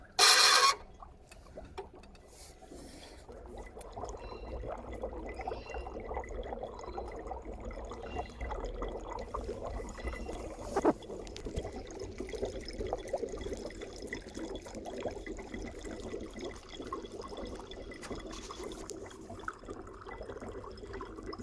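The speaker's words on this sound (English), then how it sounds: "because the blade of the knife is vibrating, that's making this sound" Dry ice in water presses against a metal knife blade and makes it vibrate, producing a continuous rough buzzing chatter that stays steady and close throughout.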